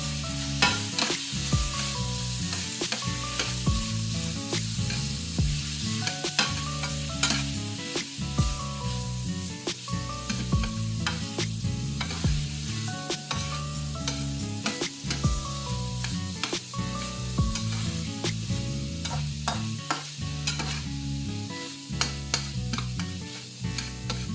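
Tofu scramble with turmeric sizzles steadily in a pan while a spatula stirs it in quick, continuous scraping strokes, close and fairly loud throughout.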